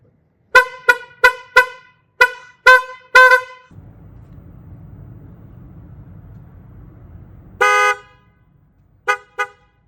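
An upgraded aftermarket horn on a 2023-2024 Honda CR-V sounds in a run of short, loud, close honks, then one longer blast, then two quick final toots, with a low engine idle between the groups.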